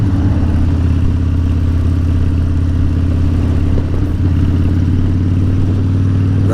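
A modern classic cruiser motorcycle with aftermarket drag pipes, baffles in, idles with a deep, steady low rumble and fine rapid pulsing, loud and close throughout with no talk.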